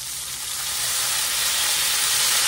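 Onions and mushrooms sauté in beef drippings for a creamy beef and mushroom dish, giving a steady, broad sizzle that holds close and constant throughout, with no talking.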